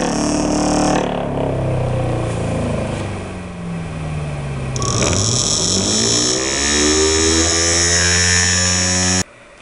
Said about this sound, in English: Speed controls for research motors allow you to gradually change the speed from zero to